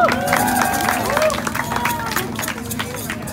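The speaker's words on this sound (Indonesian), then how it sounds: "Tepuk tangan dong." Audience at an outdoor live concert clapping and cheering in a steady wash of applause, with crowd voices and talk mixed throughout.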